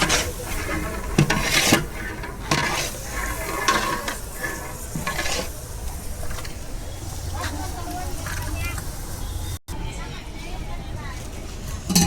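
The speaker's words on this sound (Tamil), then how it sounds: "தக்காளியே தெரியக்கூடாது, நல்லா மெசையணும்" Large pot of jackfruit biryani, about 40 kg, being stirred and mixed with curd and tomato, giving continuous close scraping, rubbing and sizzling sounds with a brief dropout near the end.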